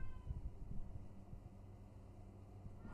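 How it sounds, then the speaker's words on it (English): A cat meows faintly inside an apartment, a few soft, thin calls that rise above a low room hum, with no one talking over them. "Y'all hear that cat in the..."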